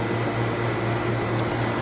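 A 2003 Robinair 6 CFM vacuum pump runs with a steady, loud mechanical drone and hum, constant and close throughout with no speech.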